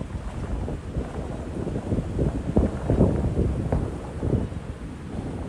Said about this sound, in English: it's got windy all of a sudden